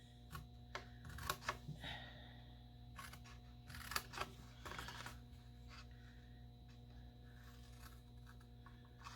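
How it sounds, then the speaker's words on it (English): Small Stampin' Up! shears snip paper up to a fold line in a few quick, close cuts clustered early on, followed by faint rustling over a steady background hum. "these are really nice little shears that Stampin' Up! Makes"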